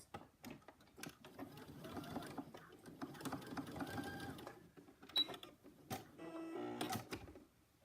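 A sewing machine stitching over an existing quarter-inch stitch line on a pajama neckband and placket, a faint quick whirring and ticking run in short bursts with small clicks between, heard close and without speech.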